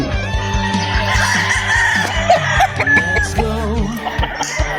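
Gamefowl chickens and roosters at a farm, loud and close, with overlapping clucking and several crowing calls running continuously throughout.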